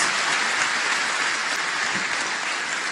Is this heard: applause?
yes